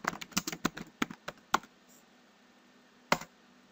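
Short burst of crisp clicks from a computer keyboard as a command is typed, a rapid run of keystrokes followed by a pause and one final tap, close and fairly quiet.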